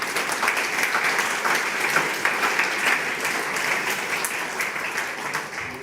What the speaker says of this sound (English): that deserves a round of very loud applause for Roche